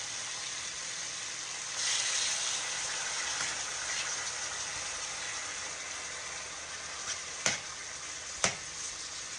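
Beef sizzles steadily in a hot pan as the first of two batches cooks, a constant bright frying hiss with a couple of sharp utensil taps near the end.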